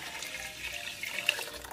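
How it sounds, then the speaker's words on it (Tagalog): Water runs into a pot of washed glutinous rice, a faint continuous splashing trickle with a few brighter spatters, close and quiet, with no talk. "Nilagyan natin ng tubig ang ating malagkit na bigas."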